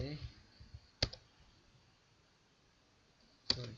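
Ctrl C pressed on a computer keyboard: two crisp, separate key clicks about two and a half seconds apart, quiet and close, with faint murmuring at the start.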